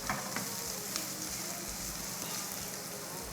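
Onions sautéing in coconut oil, a soft continuous sizzle with faint stirring crackles, close but quiet, without talk.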